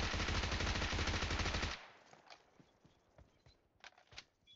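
Rapid automatic gunfire in the mobile battle royale game BGMI, a loud dense burst for nearly two seconds that cuts off, followed by scattered fainter distant shots and game sounds.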